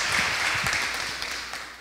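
A TV studio audience claps steadily in a broad wash of applause that gradually fades toward the end.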